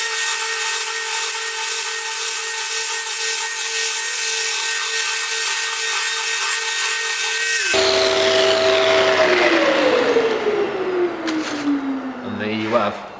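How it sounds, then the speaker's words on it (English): A power sander running steadily on a Corian solid-surface worktop with 320-grit paper, a constant high whine with strong harmonics that then cuts out and winds down in pitch as the sander spins to a stop. "when we're sanding, we do it in a figure of 8"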